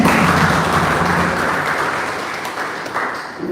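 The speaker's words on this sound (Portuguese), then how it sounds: "Uma salva de palmas para o Senhor" A church congregation applauds during a sermon, many hands clapping in a loud, steady wash that gradually eases off toward the end.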